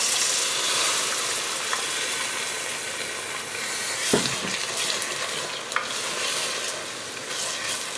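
Sugar stirred in a pan with orange blossom water and cinnamon for a sweet Algerian apple tagine, giving a steady close sizzle with scraping stirs and a few clinks, no voices.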